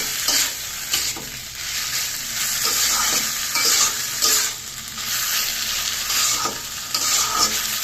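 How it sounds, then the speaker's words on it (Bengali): Water lily stems being stirred in a pan with turmeric and salt, giving a steady sizzle with repeated scraping strokes of a spatula throughout, close and fairly loud, with no talking. "শাপলার সাথে যে হলুদ আর লবণ দিয়েছিলাম এটাকে বেশ ভালো করে মিশিয়ে নেব।"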